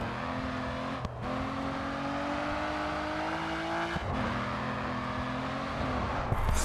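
A GRID 2 race car engine holds a steady high rev as the car drifts, its pitch briefly dropping and climbing again twice, with continuous tire and road noise underneath.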